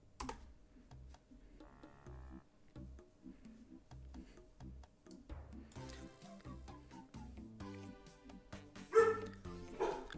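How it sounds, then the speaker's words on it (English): A dog barks in short yaps between stretches of keyboard typing and chime-like game sounds, the barks muffled and somewhat distant behind the foreground. "That's my dog barking in the background."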